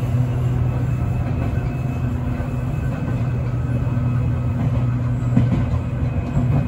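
A Seibu Line train runs along an elevated track, a loud, steady rolling rumble with faint rail clatter heard close and continuous throughout, without any voices.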